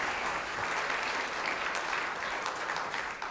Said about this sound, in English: Let's give Quint a round of applause.